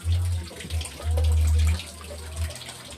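Tap water runs into a container with a steady splashing gush, close and fairly loud, while a deep intermittent hum rises and falls in several bursts beneath it.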